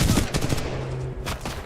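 Gunfire from a shooter video game cracks out in a quick cluster of shots during the first half-second, then fades into lighter shots and a low drone, with no talk over it.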